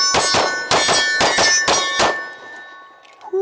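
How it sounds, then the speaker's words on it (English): Kimber 2K11 Pro Royal pistol, a small DLC-coated handgun, fires five sharp rounds in quick succession at a range, each shot ringing out loud and close with a metallic ring trailing off after the last. "Let's get some rounds downrange with this guy."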